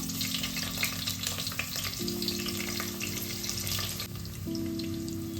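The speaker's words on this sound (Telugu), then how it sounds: "అల్లం వెల్లుల్లి పేస్ట్ ఫ్రై అయిందండి" Ginger garlic paste fries in a pan with whole garam masala, onion and green chilli, a dense close sizzle running steadily throughout beneath a faint steady tonal hum.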